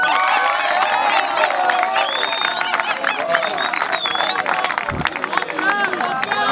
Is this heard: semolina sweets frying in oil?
no